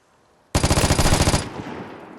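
Automatic gunfire in an online shooter game: a loud, rapid burst of about a dozen close shots lasting roughly a second, then a fading tail.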